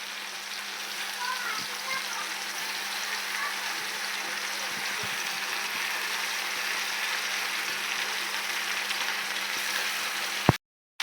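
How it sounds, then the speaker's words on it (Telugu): Chicken pieces with hearts and liver sizzle in hot oil with green chillies and ginger paste for a chicken curry, a steady close frying hiss that runs unbroken before cutting off at the end. "బాగా వేగిన తర్వాత చికెన్ వేస్తున్నాం."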